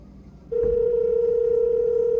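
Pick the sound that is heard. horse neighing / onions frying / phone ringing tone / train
phone ringing tone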